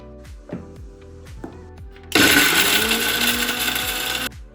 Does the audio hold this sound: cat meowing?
no